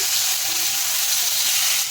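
Steady, dense sizzling of pointed gourd frying in hot oil over medium flame, loud and close, continuous throughout with no talking.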